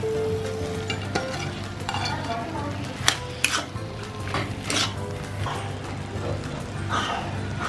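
Mushrooms and minced lamb sizzle steadily in a hot pan for lasagna bolognese while a utensil stirs and scrapes, with a few sharp clinks of metal against the pan.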